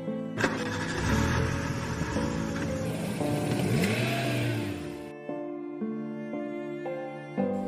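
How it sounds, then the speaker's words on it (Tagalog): A speeding car roars in with a revving engine sweep, loud and close, then cuts off abruptly into a quieter sustained tonal drone, as a sound effect in a horror animation. "Si Jacob ay nabangga ng isang nagraragasang sasakyan na kumitil agad ng kanyang buhay."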